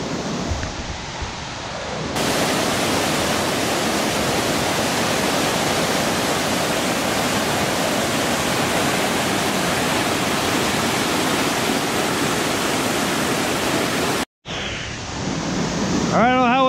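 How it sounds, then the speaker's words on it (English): A steady, loud roar of a rushing river and waterfall in Skagway, Alaska fills the scene, broad and unbroken, with a brief cut near the end and faint voices. "Can hear me with the rush of the river"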